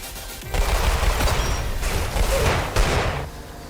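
Shotgun fire in the Roblox game Weird Gun Game, a dense run of loud, close blasts overlapping into a continuous barrage with a few distinct heavier shots near the end.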